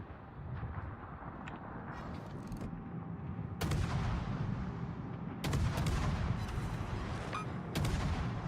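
Naval ship guns fire in World of Warships: heavy booming salvos land at intervals over a constant low rumble of engine and ocean noise, with several louder broadband blasts standing out.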